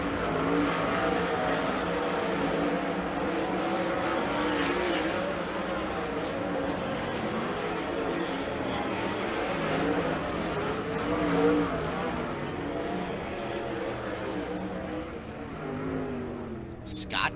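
410 sprint cars run hot laps on a dirt raceway, a continuous roar of racing engines rising and falling as the cars circle, with an announcer's voice layered over the noise.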